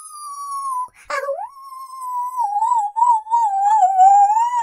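A voice imitates a dog howl, one long sustained wavering tone that breaks off briefly, then resumes with a rising yip and continues wobbling, loud and close with no other sound.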